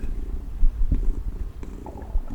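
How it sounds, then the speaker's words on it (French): Cat purring up close, a low soft rumbling purr with a gentle pulsing rhythm, steady and intimate with no talk. "Il me fait des ronrons comme d'habitude."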